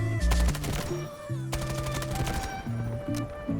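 A QCQ-171 submachine gun fires in the Delta Force video game in rapid automatic bursts at a high rate. The crackle is loud, layered over game music and tonal effects, and runs almost all the way through with no talk.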